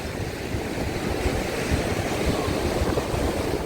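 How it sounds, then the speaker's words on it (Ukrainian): Stormy sea at Odesa in winter, with waves surging in as a continuous broadband roar and wash, blended with heavy wind buffeting the microphone, steady and loud throughout with no talking. "Сильний шторм і знов хвилі доходять, аж бачите"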